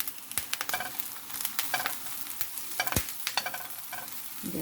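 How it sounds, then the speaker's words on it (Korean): Hijiki (tot) seaweed in a pan over very low heat, stirred with quick irregular scrapes and clicks over a gentle frying sizzle, close and clear with no voices. "이제 불을 완전히 줄이고요. 한번 저어주고요."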